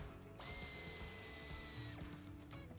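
A power tool whirs steadily as it backs a screw out of a plastic trim piece on a 2018 BMW X4, a continuous close mechanical drone with ratcheting texture that stops near the end.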